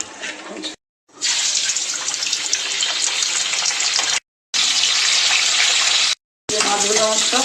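Katla fish coated in turmeric frying in oil, a loud, steady, close hiss and crackle broken by two short cuts, with a voice briefly at the start and end.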